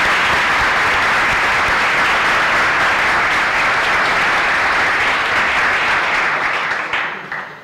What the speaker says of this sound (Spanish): ya que habéis aplaudido